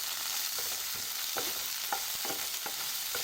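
White sauce pasta gets stirred in a pan, a spoon scraping and tapping in short repeated strokes over a soft, constant sizzle, close and fairly quiet.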